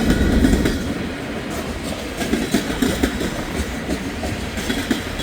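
A train rolls over jointed and insulated jointed rail on a cold, windy morning, with steady rumbling wheel noise and faint rhythmic clicks from the joints, close by and continuous, with wind buffeting throughout.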